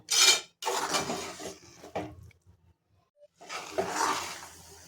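A spoon scrapes and clinks against a pan while pumpkin halwa with jaggery is stirred on a gas stove, in uneven bursts separated by short pauses.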